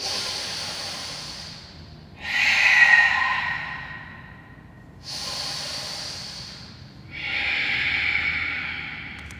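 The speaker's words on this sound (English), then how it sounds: "Take a big inhale and exhale." Deep breathing in a yoga crescent lunge, close and unhurried, with two full cycles of breath: airy, hissing inhales and long, slow exhales, separated by brief quiet pauses.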